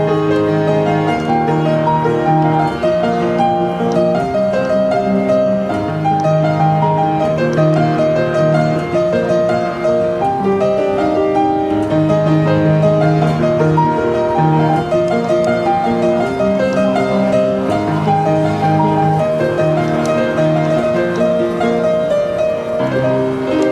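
Solo piano carries a Chinese folk melody in a Western Irish style, with flowing single-line phrases over sustained chords. It plays steadily and clearly for about twenty seconds, close and unaccompanied, with no speech.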